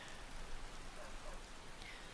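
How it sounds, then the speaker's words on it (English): Steady rain hisses down across an open area in Skyrim, a dense, even wash of falling drops at moderate level with no other sounds standing out. "And of course it started to rain just as we arrived."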